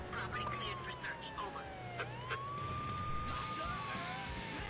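Police siren in the game True Crime: New York City, a wailing tone sweeping down and up over a noisy street background with some voices, fairly faint.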